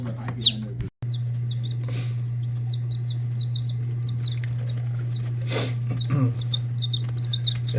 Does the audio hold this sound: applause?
no